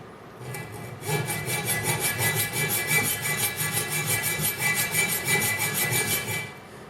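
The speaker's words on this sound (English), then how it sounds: "So I've just been using a little hacksaw." A small hacksaw cuts through 1/8 inch metal rod, with steady back-and-forth strokes rasping continuously at close range for about six seconds, alone with no talking.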